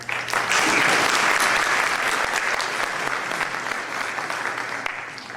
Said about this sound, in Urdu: تالیوں کے ساتھ مبارکباد